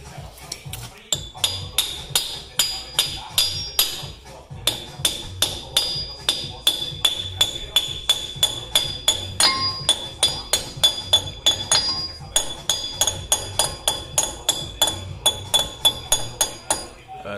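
Rapid metallic hammer blows on the wheel cover of a Ford Econoline van during front wheel speed sensor work, dozens of sharp clinking strikes in a steady rhythm, close and loud.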